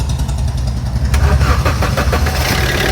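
A Maruti car with a starting problem and oil leaking out is cranked and catches, its low rough engine rumble running steadily and loudly throughout, with a brighter burst as it fires about a third of the way in.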